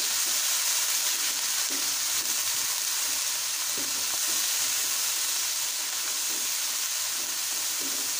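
Onion, garlic, ginger and green onion fry in a pan for a boneless chicken handi, giving a loud, steady close sizzle with faint stirring scrapes underneath and no talking.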